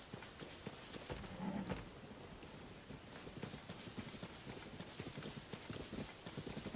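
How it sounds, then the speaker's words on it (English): Horse hooves clip-clop in the video game Zelda: Tears of the Kingdom, a steady, even run of moderate hoof strikes that carries through the whole stretch over a soft ambient bed. "Here, horsey horse."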